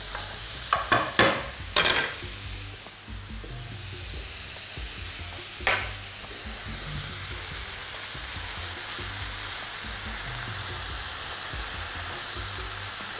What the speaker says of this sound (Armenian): Տապակում ենք այնքան, ինչև կեղև կապին։